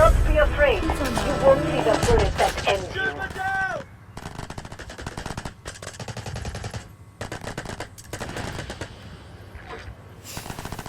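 Gunfire in the shooter video game Delta Force, loud bursts of automatic fire in rapid rhythmic volleys, with someone talking over the shooting early on.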